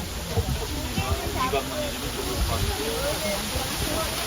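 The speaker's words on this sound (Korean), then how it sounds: "인공 폭포인데" The steady rushing hiss of an artificial waterfall pours continuously close by, with people talking over it.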